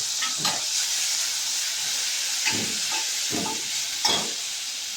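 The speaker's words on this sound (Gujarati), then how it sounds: "આ રઈ તતડવા માંડી છે" Mustard seeds, asafoetida, curry leaves and crushed ginger-chilli sizzling in hot oil for Bombay-style vada pav: a steady close hiss with sharp crackling pops and spits bursting out now and then.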